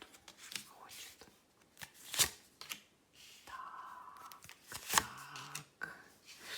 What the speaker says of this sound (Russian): Разложим наши карты побольше.